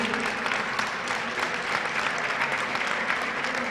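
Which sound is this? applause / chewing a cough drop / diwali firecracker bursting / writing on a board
applause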